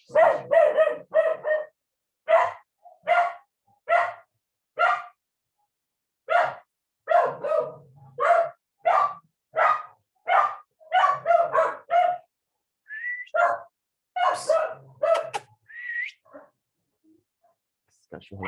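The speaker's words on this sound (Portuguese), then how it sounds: "Esse cachorro latindo é foda" A dog barks repeatedly and sharply nearby in quick bursts and irregular runs, loud and prominent over a quiet room, with a few higher yelps among the barks.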